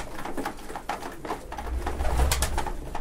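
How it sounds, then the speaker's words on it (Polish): Viennese pigeons coo softly and repeatedly nearby, low throaty calls over a steady low rumble of background noise. "Ja lubię te gołębie"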